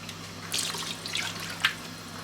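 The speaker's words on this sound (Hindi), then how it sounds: "तो इसमें ये जा रहा है 1 कप जितना पानी" About a cup of water is poured into chilli chicken biryani masala in a pan, making soft splashing and trickling sounds with a couple of brighter splashes over a low steady hum. No one speaks.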